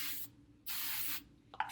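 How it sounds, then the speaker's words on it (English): Spray oil misted onto braided hair in two quick hissing bursts from a pump bottle, close and fairly loud, with a faint tap at the end. "Either spray oil or you can just put some regular castor oil."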